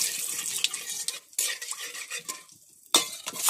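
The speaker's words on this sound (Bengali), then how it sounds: "এবার কটা জিরে সম্বরা দিলাম, দুটো লঙ্কা দিলাম" Cumin seeds and two chillies tempering in hot oil crackle and spit in uneven bursts, mixed with clattering spoon-on-pan stirring and a few brief pauses.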